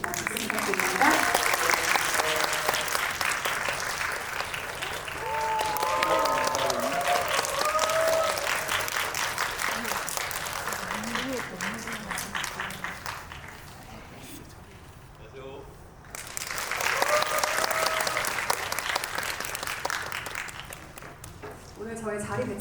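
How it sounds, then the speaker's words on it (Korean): Audience applause greets three guests at a Korean film GV talk event, swelling loud for several seconds, thinning to talk, then rising again in a second burst, with voices speaking over parts of it. "박수 부탁드립니다."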